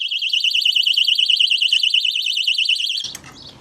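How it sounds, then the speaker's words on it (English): An Oxford motorcycle disc lock alarm sounds a loud, warbling high-pitched electronic tone that pulses rapidly for about three seconds, then cuts off abruptly with a brief clatter. "It's now just gone straight into alarm."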